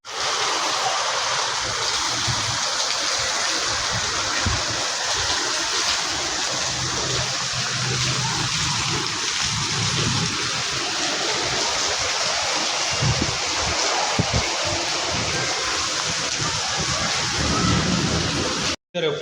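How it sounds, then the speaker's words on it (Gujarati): A heavy downpour of rain makes a dense, steady roar close by for the whole stretch, loud and unbroken until it cuts off at the end. "અત્યારે ફૂલ વરસાદ આવ્યો છે"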